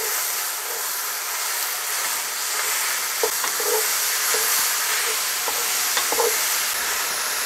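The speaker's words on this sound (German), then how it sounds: "Das müssen wir auch jetzt schön anbraten." Pork meat fries with garlic in a Dutch oven for a Filipino stir-fry, giving a steady close sizzle and hiss broken by soft scraping stir clicks.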